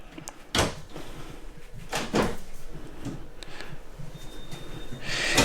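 Kitchen drawers in a Keystone Arcadia 3940LT RV are pulled open and pushed shut, making several sharp knocks and slides spaced over a few seconds against a quiet room hum.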